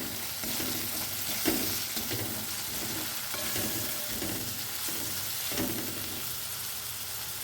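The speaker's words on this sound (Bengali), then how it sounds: "2 চামচ ধনে গুঁড়ো দিলাম আর 1 চামচ পেঁয়াজ বাটা দিয়ে নেড়ে চেড়ে নিচ্ছি" Coriander powder and onion paste are stirred in a hot frying pan, giving a steady close sizzle throughout with repeated scraping stir strokes roughly every second.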